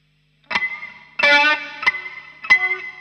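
Electric guitar with distortion, notes struck with a pick and the side of the thumb, sounding as three sharp picked attacks with ringing harmonic sustain, played alone and close.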